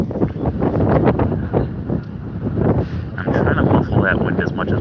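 Wind buffets a microphone outdoors at an arts festival, producing loud, continuous low rumbling and muffled gusts throughout, while a person talks over it.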